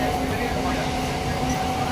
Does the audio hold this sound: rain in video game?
no